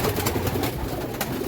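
Flight pigeons belonging to Ustad Rana Liaquat and Ustad Ansar Ashraf coo softly in a loft in Pakistan, a close, continuous murmur of overlapping calls with occasional wing flutters.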